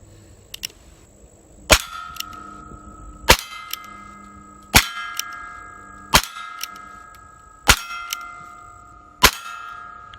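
Six evenly spaced shots of wax bullets from a Remington New Model Army revolver, each sharp crack followed by a bright ringing clang of a struck steel target, close and loud, with faint clicks before the first.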